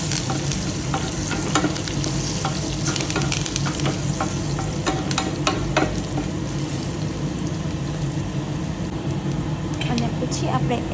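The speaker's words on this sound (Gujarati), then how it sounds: "લાલ મરચાં, લીમડો અને હિંગ એડ કરીશું. બધું એડ કરીને આપણે મિક્સ કરી લઈશું." Red chillies, curry leaves and asafoetida crackle and fry in hot oil for sambhar as a spoon stirs them, a steady close sizzle with scraping strokes, and a voice talks over it.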